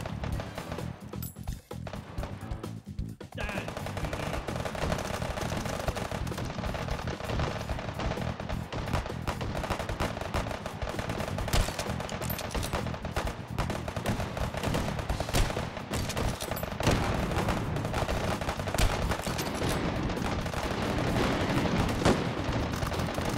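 Gunfire in the VR shooting game Hot Dogs, Horseshoes & Hand Grenades, centred on a .45-70 rifle: loud, dense bursts of shots and impacts pile up continuously for over twenty seconds with hardly a pause.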